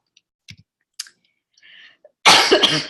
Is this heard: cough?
yes